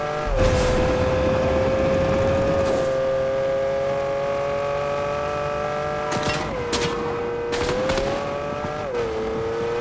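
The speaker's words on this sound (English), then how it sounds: "The engine sound is both music to my ears and almost raw enough to trigger Gordon Ramsay." A Lamborghini Countach engine in Fortnite revs and holds a loud, raw, sustained tone, with pitch dips and swells as it shifts and accelerates, heard up close with no talking.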